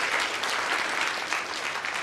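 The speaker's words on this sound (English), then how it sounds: "a round of applause for our volunteer" Steady applause from a lecture-hall audience for a volunteer at a science talk on life beyond Earth, dense and even throughout with no voices over it.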